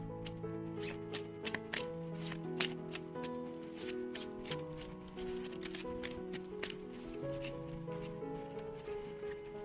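Oracle cards riffled and shuffled by hand for a reading, a steady run of soft papery flicks and snaps over quiet background music, close and moderately loud.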